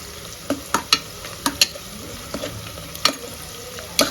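Onions frying in homemade ghee in a pan for a ghee chicken pulao, with steady soft sizzling beneath a series of sharp spatula taps and scrapes at irregular intervals.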